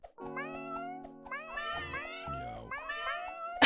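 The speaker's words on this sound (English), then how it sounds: "There was one that went meow." A cartoon cat from the Chonkers idle game meows several times in a row, bright drawn-out tonal mews with rising and falling pitch, fairly close and clear, with no talking over them.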